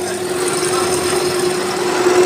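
A metal lathe turns a steel shaft, cutting the section to be threaded after sleeves were sized by micrometer, giving a steady close machine whir with a sustained tonal whine and hiss, no talking.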